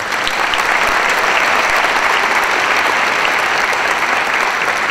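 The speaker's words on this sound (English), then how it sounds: "Let's give a round of applause for him." Loud, sustained audience applause at a Hispanic heritage celebration event, a dense even wash of clapping from a crowd that holds steady without pause.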